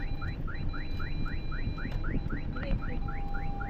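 Repeated parking sensor obstacle warning beeps from a Renault Triber reversing near trees, a steady rapid train of short chirps about five per second, loud and close over low engine and road rumble.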